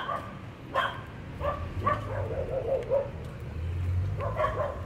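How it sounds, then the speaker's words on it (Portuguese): A dog barking in a few sharp bursts at moderate distance, with whimpering yips between barks and a low vehicle rumble underneath. "Gente, o cachorro."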